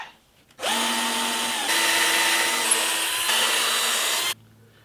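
A power drill bores holes in wood for a radius sanding block, a steady loud whine running for about four seconds with slight pitch shifts, then cutting off.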